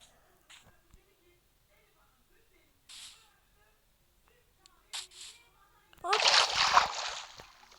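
Water splashing as someone wades through a water channel, with faint scattered sounds early on, then brief splashes and a loud, sustained sloshing burst near the end.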